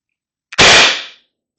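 A Pistelle X-68 air rifle in stock configuration fires one loud, sharp crack that decays quickly, with no other sound around it.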